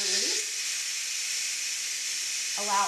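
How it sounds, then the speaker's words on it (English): A Ninja Foodi pressure cooker releases steam after cooking Asian chicken wings, giving a loud, steady hiss that runs continuously, with brief beeps at the start and end. "Allow all the steam to come out."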